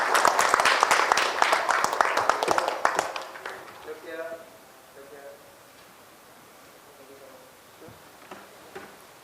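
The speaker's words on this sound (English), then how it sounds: "Can we have a round of applause, please?" An audience at a design debate event in Ahmedabad applauds an architect, a burst of clapping that is loud at first and fades out within about four seconds, followed by quiet room sound with a voice speaking.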